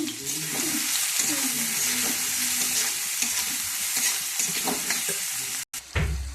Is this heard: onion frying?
yes